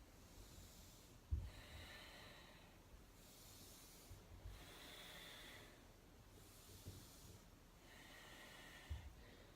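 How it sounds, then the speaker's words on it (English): Slow, audible breathing during a yoga hip mobility stretch, with soft breathy hiss on inhales and exhales repeating in a steady rhythm several times, close and fairly quiet with no talking. "So I'll let you hear my breath for a second."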